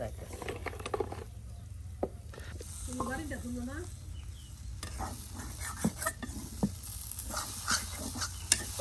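A chorchori of bottle gourd leaves and stems, drumsticks, potato and dried fish cooks with a soft sizzle, broken by occasional stirring scrapes and knocks and a brief murmur of talk, quiet and close against a low background hum.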